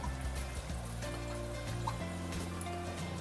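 Alkaline water runs steadily from an ionizer water filter, a continuous close trickle and pour with a faint, even tone underneath and no voices.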